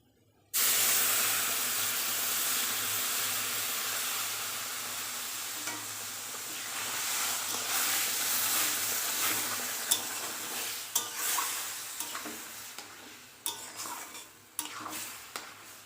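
Water poured into sizzling semolina with vegetables bursts into a loud hiss that slowly eases off, followed by scraping stirs and light clinks of a spoon against the pan.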